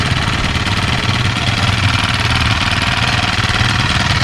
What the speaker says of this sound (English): make sure you push your bulb a couple times, and then you just start it up